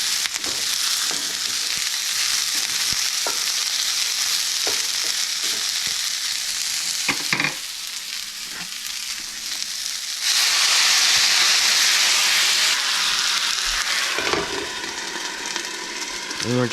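Broccoli sautés in a pan with a little water added, giving a loud, continuous sizzle and crackle close by, with a burst of hissing steam partway through and a few stirring knocks.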